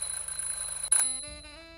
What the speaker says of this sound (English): just testing the smoke detector.